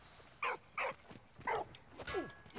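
A small dog barks in Valiant Hearts, four or five short, clear barks and yips spaced out over a quiet background.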